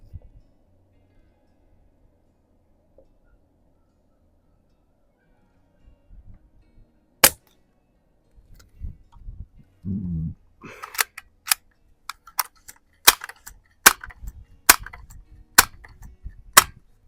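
Umarex NXG APX multishot airgun firing at an outdoor range: after a quiet stretch, one sharp crack rings out, followed by a run of crisp, evenly spaced snapping shots over low rustling handling noise.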